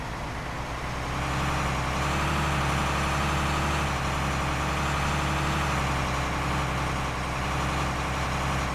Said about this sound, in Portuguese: Você dá para ouvir o som do motor na hora que vai engatando as marchas.